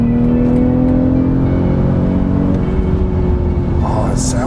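Engine note of a 2022 BMW X3 M40i building under acceleration, a steady loud rumble whose pitch climbs smoothly with revs throughout, with no talking over it.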